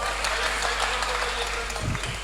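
Studio audience at a Hindi stand-up comedy show bursts into steady applause, a dense wash of clapping throughout, with a few lower thumps near the end.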